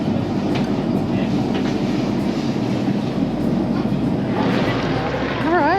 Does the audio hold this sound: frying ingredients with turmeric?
no